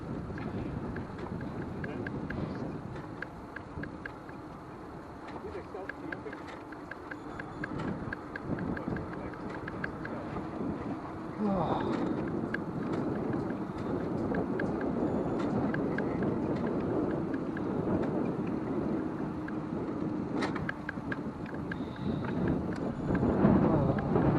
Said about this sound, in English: couldn't hear you with the wind in my ears